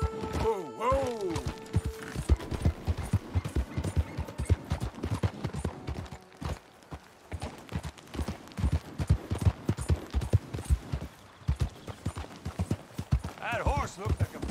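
Horse hooves clip-clop in a steady, rhythmic gallop on the ground in the video game Red Dead Redemption 2, fairly close and continuous, with a brief whinny-like cry near the start and a voice speaking at times.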